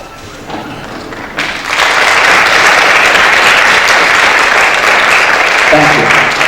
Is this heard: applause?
yes